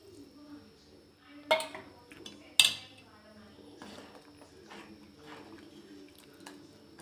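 A spoon stirs and mixes horse gram soup (ulava charu) in a pot, with quiet scraping and swishing broken by two sharp metallic clinks against the pot's side and softer taps afterward.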